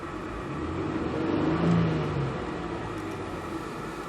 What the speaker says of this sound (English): let's see what kind of noise this car produces